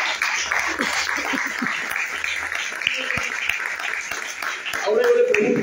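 A church congregation applauds during a sermon, a continuous wash of clapping with scattered louder claps, swelling toward the end; talk and other voices sound underneath.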